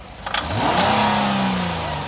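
After a few brief clicks, a Hyundai/Kia GDI engine is blipped to about 3,000 RPM during fuel-system cleaning. Its loud, close note climbs quickly, holds high, then starts easing down, with no talking.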